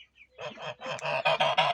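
Geese honk loudly and repeatedly at close range, a rapid series of harsh, nasal calls that grows more insistent toward the end.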